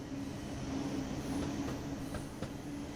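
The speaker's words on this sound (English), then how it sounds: "even though the ICE-1 is one of the most important trains in German high-speed history, its role here is quite operational." An ICE 1 high-speed train at Frankfurt Hauptbahnhof in the Train Sim World 6 video game rumbles steadily, with a sustained low tone and faint rail clicks, close and continuous throughout.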